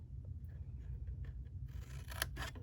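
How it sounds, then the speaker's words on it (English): Scissors trim paper tabs from a handmade candy corn treat holder, with soft quiet snips bunched toward the end over a low background hum and no voices. "we don't need either of these tabs, so we'll just cut them completely away"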